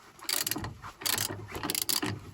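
A long stabilizer bushing bolt is unscrewed under a VW Golf 6. Rapid ratcheting clicks and grinding come in repeated close bursts, loud and mechanical, with no voice.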